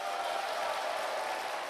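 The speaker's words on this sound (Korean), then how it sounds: "자기 자신을 위해서 한번 커다랗게 박수 한번 크게 부탁드리겠습니다" Audience applause at a Korean sales seminar, a dense steady wash of many hands clapping together, fairly distant and sustained without a break.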